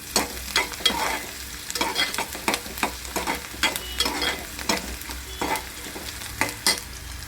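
Onion fries in a pan while being stirred for a bombil chutney, a constant sizzle punctuated by rhythmic scraping strokes of a spoon roughly every half second, close and clear, no voices.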